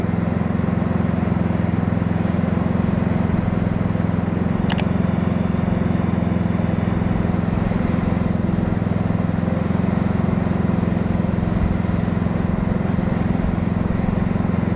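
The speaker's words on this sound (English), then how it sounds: "Our first contestant will be the plywood sound box at idle." A generator idles inside a plywood sound box, giving a steady, muffled low drone that holds constant throughout, with one brief faint click partway through.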